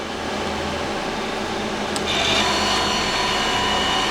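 Feeler HT-30Y CNC turning center, a new 2011 machine, with its spindle spinning at 1500 RPM: a steady mechanical whir and hum fills the space, rising slightly in intensity partway through, with no talking.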